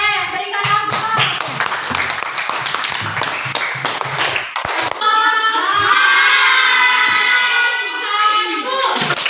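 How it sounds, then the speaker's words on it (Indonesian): Hands clapping in a classroom, rhythmic rounds of applause from children in the first half, then children's voices shouting and chanting together in the second half. "Oke, berikan aplaus."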